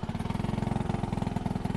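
A small outboard motor on a Jeanneau Sun Odyssey 479 sailing yacht running in a fast, steady chugging pulse close by, loud and even throughout with no voices.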